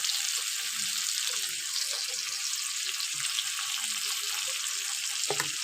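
Ginger paste added to frying fish in hot oil, a close steady sizzle and crackle with a few brief clinks near the end, no voices.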